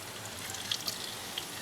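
Ginger frying in a pan for mixed fried rice, a soft steady sizzle with faint crackles and pops, quiet and close, no voices.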